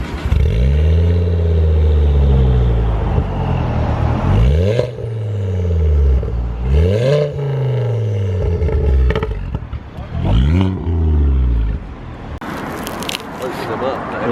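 Ford Focus ST fitted with a new aftermarket Milltek-style exhaust and large mufflers, revving loudly in repeated rising and falling bursts, close by, with people talking over and between the revs.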